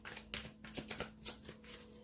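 Tarot cards being shuffled close up, a series of soft riffling bursts and slaps in an uneven rhythm, quiet and without speech.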